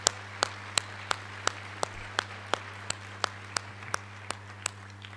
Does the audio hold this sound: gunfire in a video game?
no